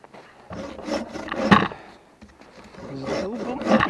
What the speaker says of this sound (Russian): С дубом будет проблема для этой пилы